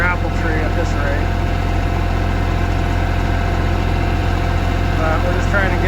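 A Kioti tractor engine idling steadily with a constant low drone and vibration, close and loud throughout while a person talks over it.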